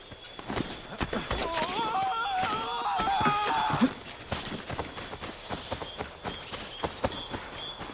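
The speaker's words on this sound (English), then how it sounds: "Get back on the horse, Connor." Horse hooves clip-clop in the Assassin's Creed 3 video game, a steady run of close footfalls with background game ambience. A voice speaks briefly partway through.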